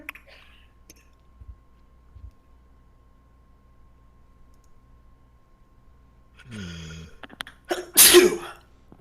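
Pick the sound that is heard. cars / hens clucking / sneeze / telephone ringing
sneeze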